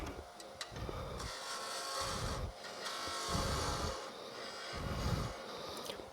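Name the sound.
woodturning glued-up wood on a lathe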